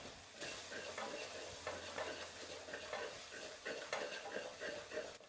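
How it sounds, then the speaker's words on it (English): Spices for paneer jalfrezi with green peppers being stirred in a hot pan, a steady sizzle broken by repeated scraping strokes of a spoon, close and fairly loud throughout with no talking. "Give this a nice mix."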